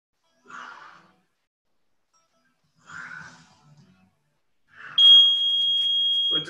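A single sustained electronic beep from a workout interval timer sounds after a no-equipment bodyweight exercise, steady and fairly loud for over a second. A few faint breaths and movements come before it.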